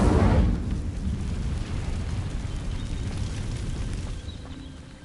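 Incendio fire spell in Hogwarts Legacy igniting dry vines: a loud whooshing burst of flame at the start, settling into a steady roaring crackle of burning that slowly fades, with no voices.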